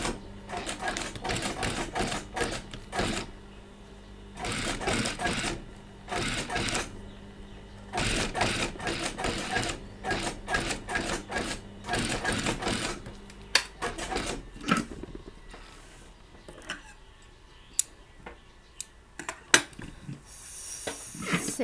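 A sewing machine stitching a shirt collar, running in repeated rapid mechanical bursts with short pauses between them, loud and close, with a few clicks and handling noises toward the end.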